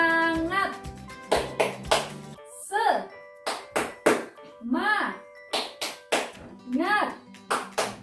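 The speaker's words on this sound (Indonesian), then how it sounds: "yuk kita tepuk semangat dulu. Tepuk semangat." Primary school class doing a rhythmic spirit clap in a classroom, bursts of clapping in patterned groups alternating with children and a teacher chanting along, fairly close.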